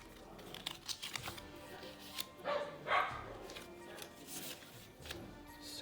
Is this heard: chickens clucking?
no